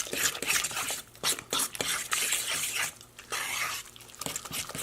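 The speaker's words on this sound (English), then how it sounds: "Get it all mixed up so that it's all mixed up together" Salmon patty mixture being stirred and mashed in a bowl, with irregular wet squelches and utensil clinks against the dish, fairly close.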